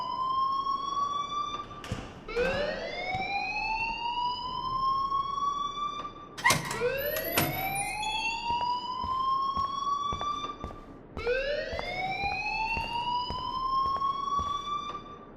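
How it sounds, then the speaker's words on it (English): A school fire alarm in the Life Is Strange video game whoops in repeated rising siren sweeps, loud and steady, with short breaks between cycles. "please turn off that alarm since that's your job"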